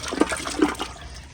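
A 1997 TOTO Carusoe toilet flushes close by, with gurgling and splashing bursts of water rushing through the bowl and trapway.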